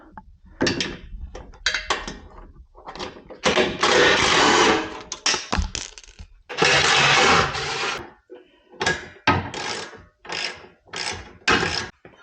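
Bolts on a 2023-2025 Chevrolet Colorado or GMC Canyon are loosened with a 13 mm ratchet for a Go Rhino E1 retractable step install, giving loud, close bursts of rapid ratcheting clicks separated by short pauses.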